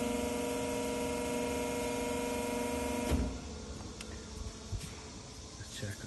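A 150L explosion-proof sigma mixer tilts its cylinder to discharge material: a steady loud motor hum with tonal whine runs for about three seconds, then stops, leaving fainter mechanical clunks and clicks over background noise.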